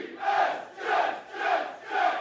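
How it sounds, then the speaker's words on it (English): Jets fans at an NFL draft party chant in a loud crowd, four rhythmic swelling shouts repeating about every half second apart, a steady cadence of massed voices filling the room. "Did you see this video of Edley in the chant"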